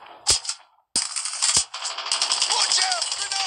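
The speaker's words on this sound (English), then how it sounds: "You guys want to hear the tactical reload of this thing?" Gun reload from Call of Duty Mobile, a mobile shooter game, with sharp metallic clicks and clacks. A sustained hissy burst of game audio follows, loud and close.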